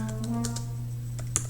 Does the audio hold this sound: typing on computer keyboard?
yes